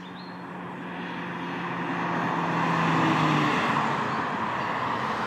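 A Mazda MX-5 Miata (ND3) driving through twisty S-bends, its engine note a smooth steady drone that swells and shifts pitch slightly as it accelerates through the curves, heard alone without voices.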